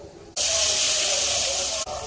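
A loud, steady sizzle of mustard seeds, urad dal and cumin frying in hot oil bursts in suddenly and holds for over a second before cutting off.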